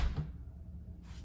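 An LG window at a dental clinic shuts with a short, close thud, and the low background hum drops away at once into near quiet.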